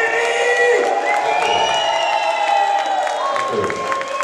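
An audience at a company Christmas party in a Trutnov hall applauds and cheers the moderator, the clapping nearly buried under loud, sustained music with held tones.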